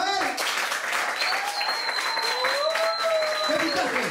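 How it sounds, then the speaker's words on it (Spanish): Audience applause at a stand-up comedy show, a crowd clapping steadily and fairly loudly, with voices and whistle-like tones riding over the clapping throughout. "¿Cómo se aplaude en Rumania?"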